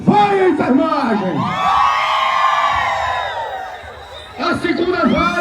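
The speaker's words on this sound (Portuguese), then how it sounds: "Mas a primeira vaia vai ser do Grupo Cora" A crowd at a nursing protest booing ministers who voted against nursing, a long swelling collective jeer of many voices held for several seconds, framed by loud shouting over an amplified voice.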